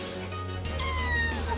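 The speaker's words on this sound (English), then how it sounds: "the adorable street cats," A street cat in Israel gives a single drawn-out meow, close and clear, rising over a steady low background hum.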